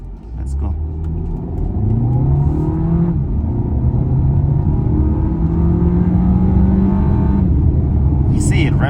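A car in sport mode revs up toward 6,000 RPM, its engine note climbing in rising sweeps, loud and close, with a voice talking over it.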